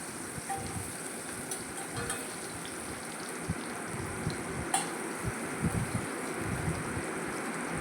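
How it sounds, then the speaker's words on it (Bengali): Red amaranth stems frying in a pan, a constant close sizzle with occasional soft taps and scrapes as they are stirred, no talking. "ভাজা ভাজা করে নিচ্ছি"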